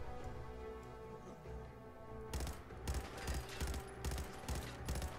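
Modded Fallout 4 gunfire rattles out in rapid bursts of sharp shots, loud and close, over a steady droning game soundtrack.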